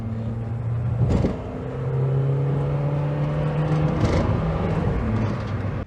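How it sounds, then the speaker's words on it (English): A Daihatsu YRV Turbo, a petrol automatic, pulls hard under acceleration with a steady engine drone, a brief dip at a gear change, then rising again as the turbo catches up; no talk. "Gear change and turbo lag."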